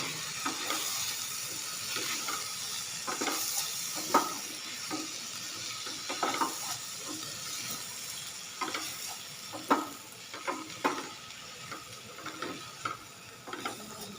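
Turmeric and garam masala frying in a pan for an aloo shimla mirch sabji, a continuous sizzle cut by repeated scraping stirs and clinks at an irregular pace, close up with no voices.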